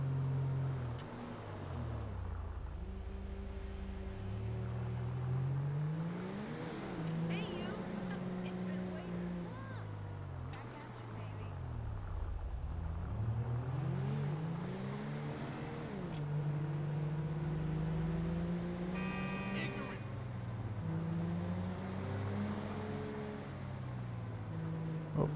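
A car driven in the OCRP roleplay video game, its engine droning steadily throughout with repeated rising and falling rev sweeps as it speeds up and slows, loud and continuous.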